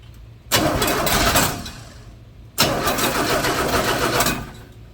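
A 1981 Chevrolet C10 truck engine cranks and fires twice in succession, each start rising to a loud, close rumble before settling into a rough idle.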